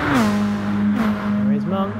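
Nissan race car engine in a racing video game, a steady high droning whine that dips and recovers as the car slides through the first corner, with commentary talk over it.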